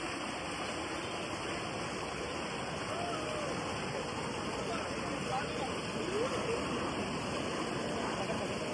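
Rushing water at Kalu waterfall in Maharashtra, with high flow and pressure on a risky crossing, makes a loud, steady broadband roar that continues unbroken throughout.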